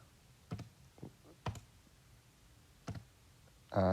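Calculator buttons pressed one at a time, four or five sparse, close, distinct clicks at irregular intervals, ending in a short electronic beep.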